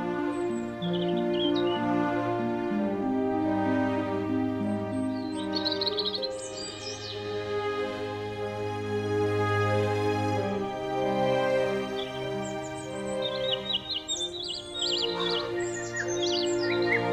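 Garden birds chirp and tweet in short, bright bursts near the start and again toward the end, set against a steady, droning tonal background that runs throughout.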